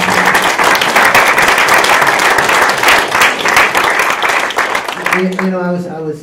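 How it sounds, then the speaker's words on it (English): An audience at a climate-change resilience talk breaks into a sustained round of applause, dense and steady close-up clapping for several seconds, ending as a voice begins speaking. "Let's give them a round of applause"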